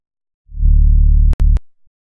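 A short synth note stacks a sub bass under a filtered saw wave, with compression and distortion, sustaining loudly for about a second before cutting off with a couple of sharp clicks.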